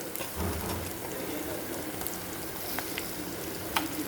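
Okra fries in a pan with turmeric, giving a soft, steady sizzle with faint crackles and a few light taps. The sound is close and fairly quiet.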